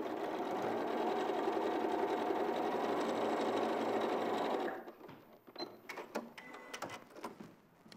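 A sewing machine stitching quilt pieces, running in one steady, loud, continuous whir for several seconds before stopping, followed by quieter clicks and handling noises.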